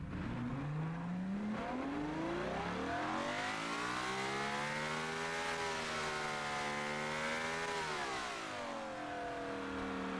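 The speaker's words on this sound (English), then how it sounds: "Decent level of power from a baby V12. Now, shall we go and fire it up and see what it sounds like?" A small V12 engine in the Automation car-building game revs up through a rising, falling sweep of harmonic tone, climbing to a high wail then dropping back, smooth and continuous with no talk.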